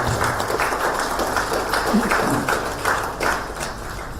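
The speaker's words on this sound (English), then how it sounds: "Ladies and gentlemen, let's give them a round of applause" An audience at a panel discussion event applauds steadily, a moderate wash of many hands clapping at a distance, continuous throughout without speech.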